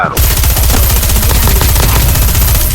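Rapid automatic gunfire in a Call of Duty online match, loud and continuous bursts filling the whole stretch.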